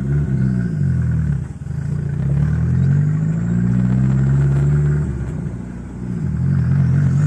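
A turbocharged Audi A3 engine with a forged build revs and accelerates in second gear, its deep droning tone rising steadily in pitch, dipping briefly and climbing again, loud and close with no talk.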